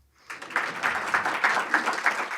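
Audience at a county affordable housing trust announcement breaks into applause, rising quickly from silence into a steady, moderately loud patter of clapping.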